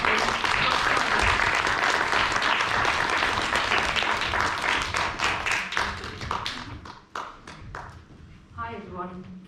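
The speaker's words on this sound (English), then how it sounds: "I'd like you to give a big round of applause as we welcome Roxana." An audience claps at a community event on racial discrimination to welcome the Mayor of Newham: loud, sustained applause that thins into scattered individual claps, then a voice begins speaking near the end.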